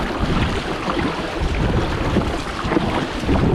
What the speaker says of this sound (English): I'm just going to keep paddling lateral to the beach.